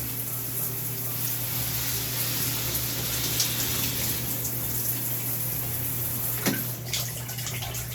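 Water streams steadily from a tap as a houseplant pot is held on its side and rinsed, a continuous close gush with a brief splash near the end.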